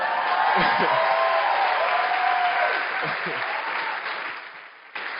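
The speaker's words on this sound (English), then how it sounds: "give my wife a round of applause" Applause at a real estate conference: a large audience claps in a dense, sustained wash, with cheers rising over it, before the sound fades and drops off toward the end.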